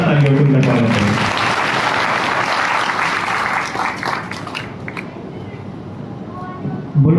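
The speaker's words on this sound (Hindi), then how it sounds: "सभी से निवेदन की जोरदार तालियों को उनका स्वागत करें" At a dharamshala inauguration ceremony, an audience breaks into loud, dense applause to welcome a member of parliament. A voice speaks briefly at the start, then the clapping swells and gradually thins out over about seven seconds.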